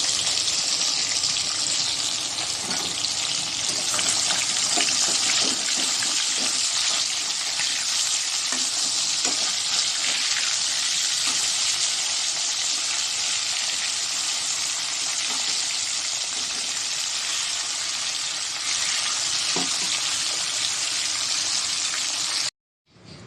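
Fish frying in hot oil gives a steady, dense sizzle with crackling spatters that runs unbroken for over twenty seconds before cutting off abruptly.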